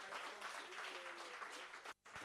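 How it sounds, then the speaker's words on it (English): Audience at a workshop on dealing with failure and rejection in Khayelitsha applauds, a continuous clapping wash at moderate distance that cuts off briefly near the end. "I think you need to give yourselves a round of applause."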